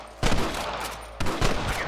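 Two loud bursts of rapid gunfire crackle from Red Dead Redemption, each a short volley of several shots, close and harsh with no talking.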